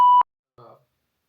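A single short censor bleep, a steady mid-pitched tone lasting about a fifth of a second, sounds loud and clean on a talk radio show, followed after a pause by a brief muffled bit of voice.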